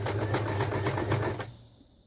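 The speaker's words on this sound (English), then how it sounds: "I've sewn all manner of things on my machine." Home sewing machine stitching through small fabric scraps, a fast, even run of needle clatter with a low motor hum, close and clear, stopping abruptly near the end.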